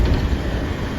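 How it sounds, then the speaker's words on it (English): Train passing along the median of the Mopac freeway in Austin, a low continuous rumble with faint rhythmic rattling, heard briefly at a steady level with no talk. "Train going down the middle."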